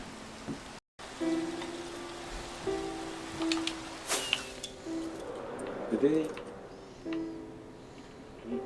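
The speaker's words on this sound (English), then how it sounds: "It just starts to rain." Rain falling in a Minecraft game, a steady soft hiss throughout, with faint clinks and short tones over it.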